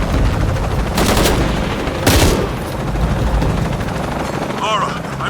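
Helicopter rotors thrum steadily in Shadow of the Tomb Raider, loud and close, with two sharp noisy bursts standing out and a dense mix of game sounds throughout.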